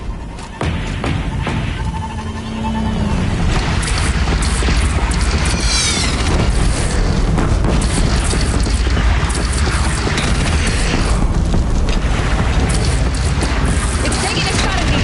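In the video game Horizon Zero Dawn, a cannon booms at the player amid dense, continuous battle noise of crashes and mechanical clatter, with a voice talking through it.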